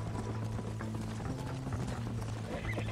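Horse hooves clop along at a steady riding pace in the Western video game Red Dead Redemption, a continuous close rhythm under low ambient game sound with no speech.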